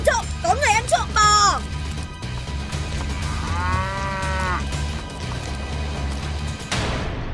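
A cow moos in a long, drawn-out call near the middle of an animated cattle-theft scene, while excited shouting voices sound at the start, with a crash near the end.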